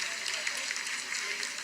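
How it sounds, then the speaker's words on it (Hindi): Applause in the mission control room during the Chandrayaan-3 lunar landing, a steady dense wash of clapping from many people that continues throughout with no pauses. "Lot of applause indicates that till now the performance has been nominal."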